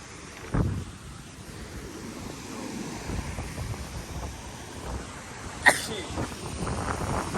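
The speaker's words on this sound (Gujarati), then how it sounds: "એક છે પવન બહુ આવે છે" Strong wind buffets an outdoor spot beside loud rushing water, a steady broadband roar that runs the whole time with a couple of brief knocks and bumps near the microphone.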